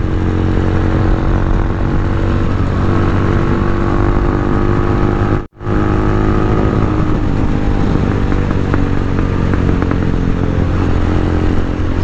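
Venom X22R motorcycle engine running steadily while being ridden, a continuous loud drone with a brief dropout midway, no talking.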